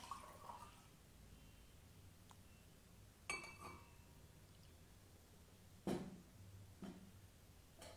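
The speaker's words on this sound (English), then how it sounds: "I'm taking another glass." A glass of water is picked up and set down during a talk, giving a few sharp, faint clinks spaced apart over a quiet room.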